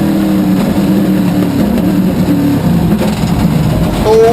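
Corvette Supercar Challenge race car at Zandvoort spinning backwards off track, a loud continuous engine and tyre roar with shifting tones, followed near the end by a rising whine.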